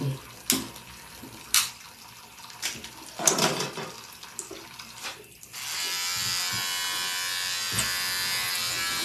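Electric clippers trim a pet's hair, with scattered clicks and handling knocks before the motor starts into a steady loud buzz that runs to the end.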